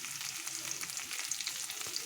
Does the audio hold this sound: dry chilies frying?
yes